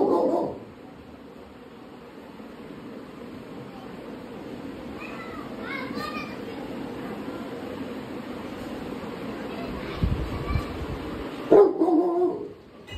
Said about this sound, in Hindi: देखो बारो भाई है तो उनको कब से भौंक रहा है।